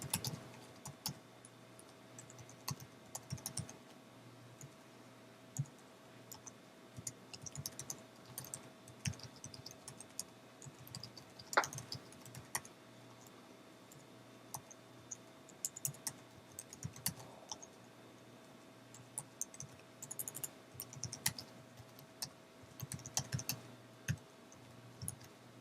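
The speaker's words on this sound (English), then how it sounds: "Let me type this first." Quiet, irregular typing on a computer keyboard, with bursts of key clicks and pauses, recorded faintly and without talk.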